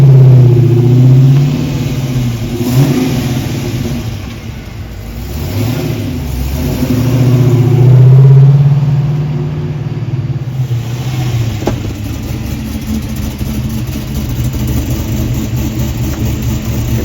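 A restomod classic car's engine runs loud and close, settling near idle then swelling through two or three strong revs before easing back to a steady rumble, with no talking.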